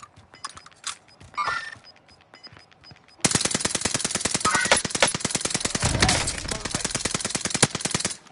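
Rapid automatic gunfire in Call of Duty Modern Warfare II, a loud sustained burst of evenly spaced shots running for about five seconds after quieter game sounds and brief chatter.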